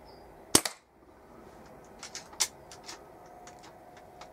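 A Weihrauch HW97 air rifle fires one sharp, loud crack, followed by a quiet stretch and then a few faint clicks and ticks of mechanical handling, one of them a little stronger.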